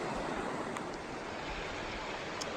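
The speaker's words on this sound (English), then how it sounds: "pretty creek, nice water." Creek water flows steadily through a beetle-damaged forest in the Teton Wilderness, a continuous broadband wash with no breaks, close and fairly loud, with no talking.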